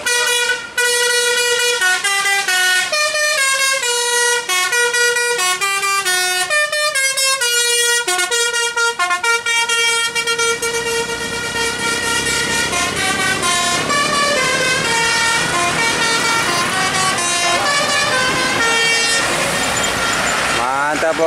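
A bus plays its telolet horn, a loud, close run of bright multi-toned musical honks in quick melodic bursts that goes on and on over engine rumble and excited voices.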